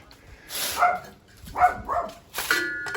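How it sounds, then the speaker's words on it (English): A dog barks several times at a moderate distance in irregular bursts, with short pauses between the barks. "Oh, the dog's barking."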